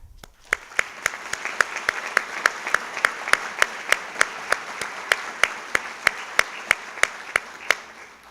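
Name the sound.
audience applause at awards ceremony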